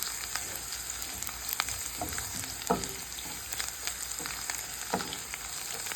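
Cut garlic pieces frying in a pan for a coriander-leaf pickle, a constant close sizzle broken by several sharp scraping stirs and light taps of a utensil, with a faint high whine behind.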